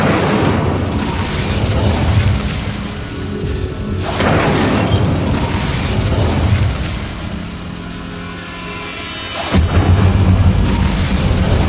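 An Incendio fire spell cast in Hogwarts Legacy gives loud, booming blasts: one burst near four seconds and another near nine and a half, over a dense, rumbling game soundscape.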